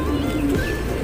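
A racing pigeon arrives at its loft, giving a low, brief coo against a steady outdoor background.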